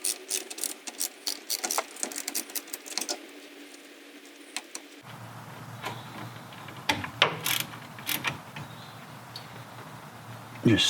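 A 14mm socket ratchet snugging a rear brake plug back in on a Mazda Miata, quick close clicking pawl bursts in short runs, broken by pauses and handling noise.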